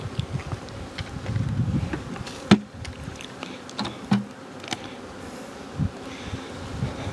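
Honey bees drone in a continuous low buzz around nucleus hives in a bee yard, with a few sharp clicks and knocks nearby.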